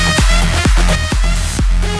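A full studio music mix with the Waves C4 multiband compressor bypassed plays a dense, steady groove, a punchy kick thumping four times on an even beat under sustained layered tones.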